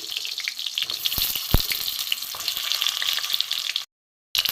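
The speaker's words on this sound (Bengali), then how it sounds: "এগুলো আমি এখন ভেজে নেবো।" Seeded pointed gourd (potol) pieces fry in hot mustard oil in a heated pan, giving a steady close crackling sizzle with a few sharp pops, then a brief silent gap near the end before the frying resumes.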